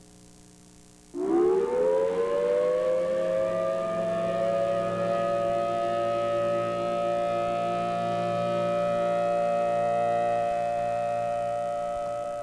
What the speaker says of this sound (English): We hope we never hear the tornado siren going off.